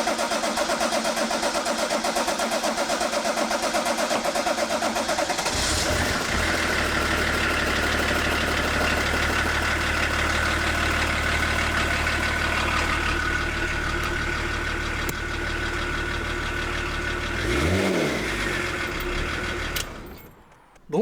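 BMW 525 TDS diesel, struggling to start, cranks and catches with a rough clatter, then settles into a loud, steady mid-pitched idle with a brief rev rise and fall before it cuts off at the end.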